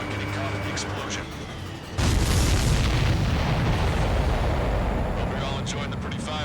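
A missile explodes in the flight combat game Ace Combat 7: a loud, sudden boom with a long rumbling roar that lingers for several seconds, following quieter background game audio.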